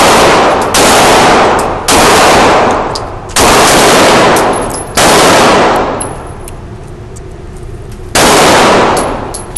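A Taurus Millennium 45 ACP pistol fires at a gun range: about six loud, close shots at uneven intervals, each a sharp crack with a long ringing decay, with faint metallic pings between.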